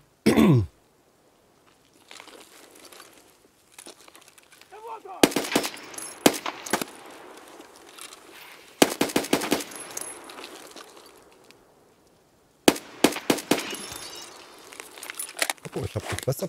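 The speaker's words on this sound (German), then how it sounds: "Es sind zwei Sniper, die auf mich schießen." Escape From Tarkov PvE sniper fire: spaced, sharp crack volleys separated by quiet stretches, with faint handling and movement noises between them.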